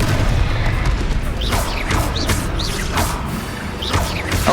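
Repeated Confringo fire spell blasts in Hogwarts Legacy, loud whooshing bursts with sweeping hiss over a dense rumbling combat background, several impacts spaced over a few seconds.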